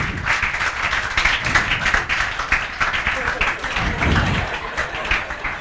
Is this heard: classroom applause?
yes